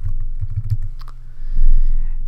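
Fingers tap on a computer keyboard while editing a shared Google Drive document, a short run of soft, close keystrokes followed by a couple of sharper clicks over a low hum.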